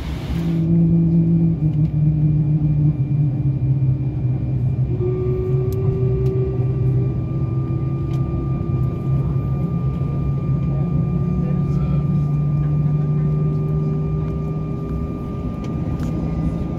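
Alaska Airlines jet engines roar steadily during takeoff from Orange County, heard inside the cabin, a constant low rumble with sustained tones that shift slightly in pitch.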